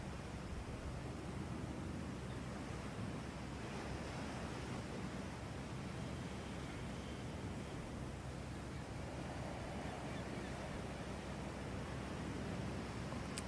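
Ocean waves wash steadily onto a beach in late summer, forming a continuous broad roar of surf at an even level with no talking.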